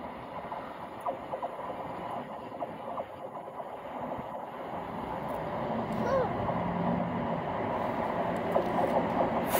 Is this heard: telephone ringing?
no